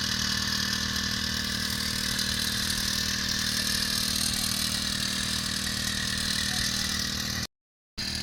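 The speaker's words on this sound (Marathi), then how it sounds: "भरपूर मोठा आहे पेट्रोल पंप" A small petrol engine on a crop sprayer pump, spraying pomegranate trees, drones steadily at a constant pitch, running loud and close, then cuts out briefly near the end.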